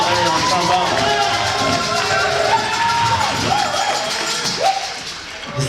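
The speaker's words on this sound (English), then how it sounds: "You got a big applause right there, man." Audience at a university jazz ensemble concert applauds and cheers after a trombone solo, a dense sustained wash of clapping and shouts that thins toward the end, with music tones running underneath.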